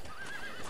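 A horse in Red Dead Redemption gives a brief neigh with a rising and falling whinny, close and alone, with a faint clop underneath.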